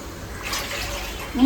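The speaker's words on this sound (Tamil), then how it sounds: "இதுல வந்து 3 கப்பு தண்ணி ஊற்றிக்கணும்." Water splashes and pours steadily into a pan, about three cups, with a brief louder gush near the end; no voices over it.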